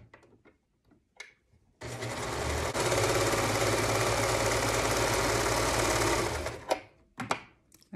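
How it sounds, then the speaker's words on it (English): A sewing machine stitches the top seam of a fabric face mask, starting after a few faint clicks and running as one continuous loud, even whir for about five seconds before stopping, followed by a couple of handling knocks. "Now I'm going to sew these both together, and it's going to finish the top seam"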